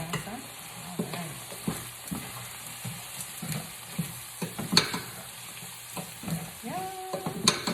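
Seasoned tortilla pieces sizzle in a pan while a utensil scrapes and stirs them in repeated bursts, a steady frying hiss running underneath, close and fairly quiet.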